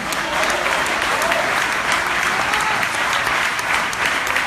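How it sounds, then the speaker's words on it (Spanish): A church congregation claps steadily in praise, dense continuous applause filling the room without pause. "con palmas de alabanza para el Señor"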